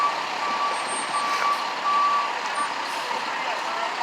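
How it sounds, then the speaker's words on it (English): Vacuum truck backing up at a water main break at Neponset Circle, its backup alarm beeping at a steady rhythm over a broad hiss of outdoor traffic and engine noise, moderately distant. "So they're gonna bring the vacuum truck over here to suck out this water"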